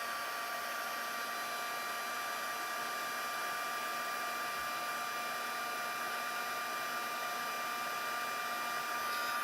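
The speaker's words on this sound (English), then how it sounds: "I am going to plug this in, and hopefully I don't short anything in my house. And then I'm just going to emboss this." Heat embossing tool warming embossing powder on a card, a steady whooshing fan-and-blower drone that holds at one even level throughout, close by, with no talk over it.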